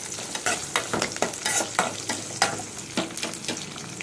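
Ingredients for Madurai mutton kola urundai sizzle and fry in a pan while a spatula stirs and scrapes them in repeated strokes, close and fairly loud, with no talking.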